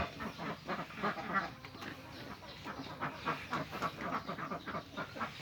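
Ducks on a small duck-egg farm quack steadily and close by, many overlapping calls in a dense, continuous flock chorus with no pauses.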